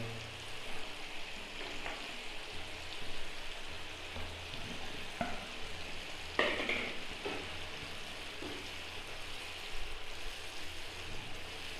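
Chopped green chillies dropped into tomatoes frying in a pan, giving a steady, close sizzle with faint stirring clicks and no voices.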